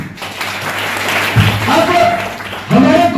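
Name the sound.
audience clapping at a training program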